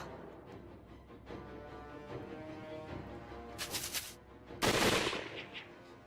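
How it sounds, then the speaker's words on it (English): Bursts of rapid gunfire crackle at a distance in a video game, building to a louder volley near the end over a dense rumbling background. "A volley of gunfire rattled through the air."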